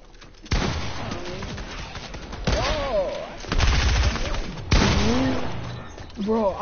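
Gunshots in a Fortnite zone wars match: several loud, sharp blasts spaced a second or two apart, mixed with players talking over them.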